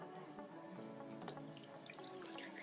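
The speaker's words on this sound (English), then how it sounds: "Rinse hands in clean water" Hands rinsed under a running tap in clean water during handwashing, a steady soft trickle and splash with small drips, quiet and close, with no talk.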